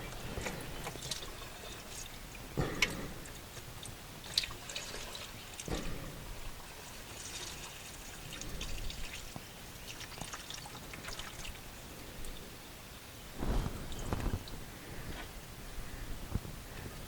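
Transmission fluid trickles and pours from the pan of a VW Touareg, a faint uneven stream broken by scattered louder splashes and drips, with no speech.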